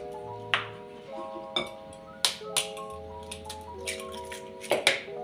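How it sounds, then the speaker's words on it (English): Three eggs cracked into a bowl for a strawberry shortcake cake, a few sharp taps and light clicks spread out over several seconds, fairly quiet against a soft background hum with faint tonal ringing. "we're gonna crack our eggs into our bowl. So that's 3 eggs going in."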